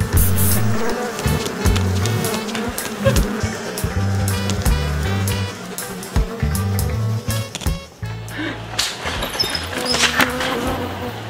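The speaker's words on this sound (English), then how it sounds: "I normally wouldn't kill wasps. We have to do it because it's so bad." Wasps swarming outdoors while being sprayed with insecticide: a loud, dense buzzing drone that rises and falls close by, with irregular surges as the insects fly around.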